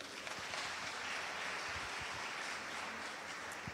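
Steady, dense applause from an audience at a youth roundtable hosted by NYDA in Khayelitsha, a continuous wash of many hands clapping at an even level throughout, moderately distant with no talk over it.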